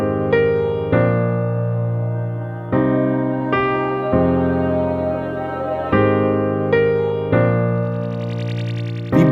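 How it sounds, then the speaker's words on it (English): Piano melody in a sound branding logo: a sequence of sustained, ringing notes struck one after another with steady decays, close and prominent, with no voices. "There is a quality-related sound like this piano."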